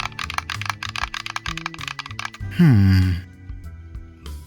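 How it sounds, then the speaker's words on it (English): Clicky buttons on a ModRetro M64 Pro controller, a rapid run of sharp close-up presses with a few more scattered clicks, set against musical tones and a brief groan-like sound. "The buttons are satisfyingly clicky."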